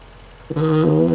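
A tractor engine in Farming Simulator 25 starts up with a rising tonal drone that settles into a loud, steady idle hum, heard alone with no speech.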